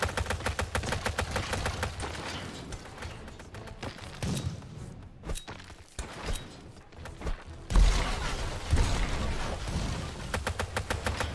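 Bursts of rapid gunfire crackle in a Total Tank Simulator battle, with steady machine-gun rattles and dull thuds, then a short lull before heavy firing resumes; no one speaks.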